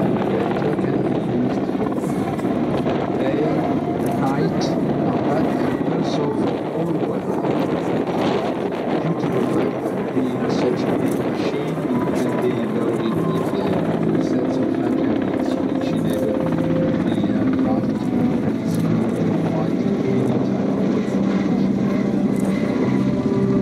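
A Ka-52 Alligator attack helicopter at the Paris Air Show: heavy rotor drone thrums continuously, mixed with wind buffeting the microphone, and a voice speaks faintly beneath.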